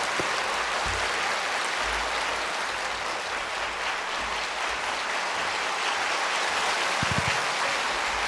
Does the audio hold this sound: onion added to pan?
no